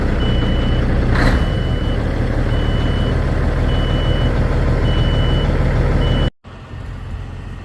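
A truck idles steadily on a farm during corn harvest, its engine a loud continuous rumble with a repeating reversing beep from nearby equipment, before the sound cuts off abruptly near the end.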